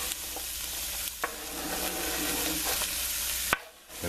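Chopped vegetables sweating in a pot for a chicken stew, a steady soft sizzle with occasional scrapes and knocks from a stirring utensil, close up and with no talking.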